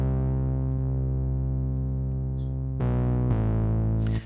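A sustained electronic bass synth tone playing alone, holding steady and then stepping up in pitch twice, smooth and fairly loud.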